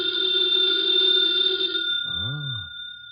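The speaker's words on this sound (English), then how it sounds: "Could never ignore a phone call." An old telephone bell rings insistently in a steady high trill, then stops and gives way to a lower voice, all from a vintage radio drama.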